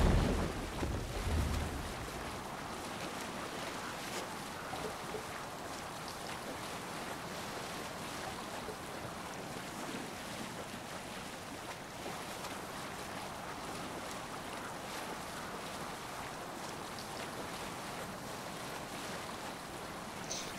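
A Viking longship under sail on the waves in Assassin's Creed Valhalla, with steady rushing surf and wind noise, a brief louder splash at the start, then a constant soft wash throughout.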